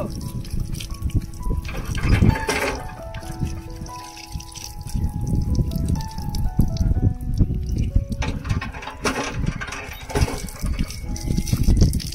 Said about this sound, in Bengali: এই কলটাতে হাত পা ধুয়ে দিই, কাদা মাটি লেগে আছে